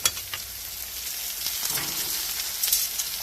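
Garlic bread frying in butter gives a continuous bright sizzle with small crackles and pops throughout, close and steady.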